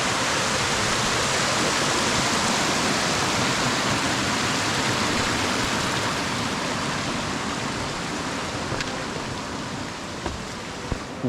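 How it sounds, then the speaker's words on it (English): A mountain waterfall cascading steadily, a loud, continuous roar of rushing water that holds evenly throughout, with a couple of faint clicks near the end. "you can see the cascades up here coming down"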